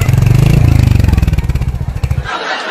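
A new Bullet motorcycle's engine revs loudly and close by with a strong pulsing thump that rises and falls, then cuts off near the end.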